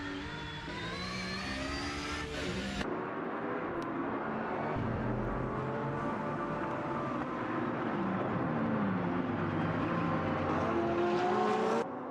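Porsche race car engines in the Motor Mania racing video game, a steady loud drone of multiple cars with shifting revving pitch throughout, no talk.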